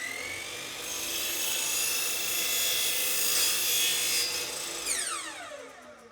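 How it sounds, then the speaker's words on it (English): A power saw makes miter cuts on the ends of taped-together wooden box sides, holding a loud, steady whine for several seconds before spinning down with a falling pitch at the end. "I can cut the miters on the ends."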